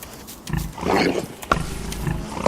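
Pig grunts and snorts from the video game Don't Starve, a few short nasal calls in a brief cluster, moderately loud over a busy game backdrop.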